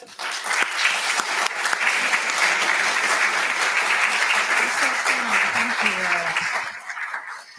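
An audience welcomes artist Rachel Libeskind with warm applause: steady, dense clapping from a sizeable crowd that builds quickly, holds for several seconds and tapers off at the end.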